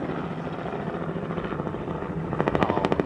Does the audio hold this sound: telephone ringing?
no